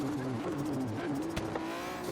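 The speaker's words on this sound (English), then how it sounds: "This thing sounds amazing" MG Metro 6R4 race car in the Forza Horizon 3 video game, driving with a sport-bike-style engine revving high and tires squealing, a steady loud engine drone with a skid throughout.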